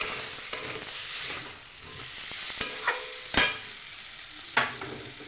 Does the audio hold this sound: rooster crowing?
no